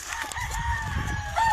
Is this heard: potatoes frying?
no